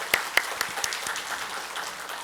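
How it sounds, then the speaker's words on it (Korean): Church congregation at a Sunday service clapping, a few distinct sharp claps up front followed by softer, scattered applause fading quickly. "다시 한번 우리 박수로서 격려해 주시기 바랍니다"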